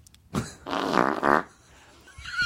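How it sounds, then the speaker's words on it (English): A long, wet, juicy fart sounds close and loud for about a second, with a sputtering, buzzy quality, then trails off into quiet room tone. "Talk about farting."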